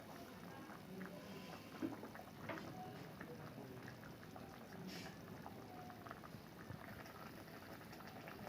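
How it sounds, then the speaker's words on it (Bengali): Fish curry with coriander leaves simmering in a pot, a soft, steady bubbling and popping that continues evenly throughout, faint and close. "মাছটা আমার ভালোভাবে ফুটে গেছে।"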